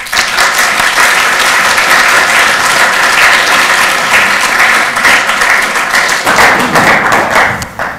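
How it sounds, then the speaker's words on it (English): Audience applause welcoming a speaker to a centre-right politics talk, loud sustained clapping from a full room that thins out toward the end. "Please join me in a round of applause"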